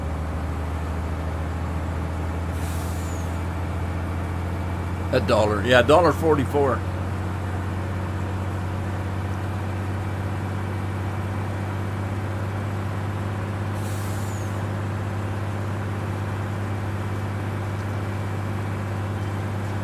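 Kenworth truck engine in Farming Simulator 19: a steady low diesel drone throughout, with a short burst of speech over it and faint hissing blips that may be air brakes.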